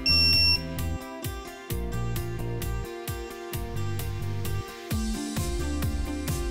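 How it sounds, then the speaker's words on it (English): A Snap-on TechAngle electronic torque wrench sounds its buzzer in a start-up self-test after its AA batteries go in: a short, loud, high electronic beep at the very start, followed by steady background music. "the wrench will start automatically, the handle will vibrate, the LEDs will light, and the buzzer will sound."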